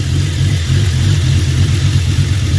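A 1983 Oldsmobile Cutlass T-top engine running, a loud, steady, rumbling idle with a slight rhythmic lope held close throughout the short stretch.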